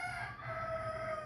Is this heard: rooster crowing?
yes